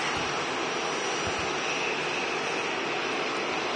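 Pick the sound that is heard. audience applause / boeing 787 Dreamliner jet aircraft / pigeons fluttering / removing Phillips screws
boeing 787 Dreamliner jet aircraft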